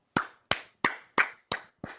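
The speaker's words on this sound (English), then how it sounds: "round of applause" Six separate loud claps sound one by one at a steady, slightly uneven pace, each sharp and close with a short fading tail, more like a single person clapping than a full audience.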